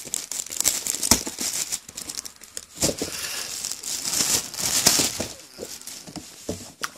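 Packaging crinkles, crackles and tears in a dense, uneven stream of close rustles and sharp rips as a taped-shut parcel is unpacked, with no talking.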